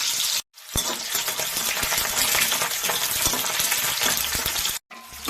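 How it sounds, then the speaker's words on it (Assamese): Onions fry in hot oil in an old, blackened kadai, producing a loud, busy, continuous sizzle with scattered crackles and a few brief stir-scrapes, broken by two short silent gaps. "তেল গৰম হৈ গৈছে, পিঁয়াজখিনি দি দিলোঁ।"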